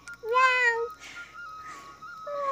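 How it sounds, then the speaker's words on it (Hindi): A cat meows once, a clear rising-falling cry up close in a rural hill village, followed by louder outdoor background noise. "ए बिल्ली"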